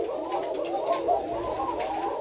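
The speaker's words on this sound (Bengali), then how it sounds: "এগুলো সব সাদা কোকা কবুতর আর কি" White Koka pigeons coo softly and repeatedly in overlapping, rolling phrases, close by, with a steady low murmur behind them.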